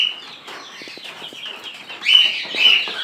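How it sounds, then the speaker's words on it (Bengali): Farm chickens fed on feed, raw vegetables and grain make soft clucking and short calls, with brief wing flutters, close and moderately loud, louder toward the end. "এই মুরগি ফিড এবং কাঁচা শাকসবজি খায়।"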